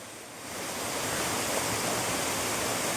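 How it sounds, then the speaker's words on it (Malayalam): A small waterfall roars as a dense, steady rush of falling water, swelling within the first half second and then holding loud and even, with no voices. "ചെറിയ ഒരു വെള്ളച്ചാട്ടമാണ്"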